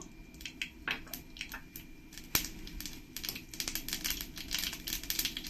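Mustard seeds crackle and pop in hot oil at the start of tempering for lemon rice, a dense run of sharp, irregular pops close by, growing busier toward the end with no talk.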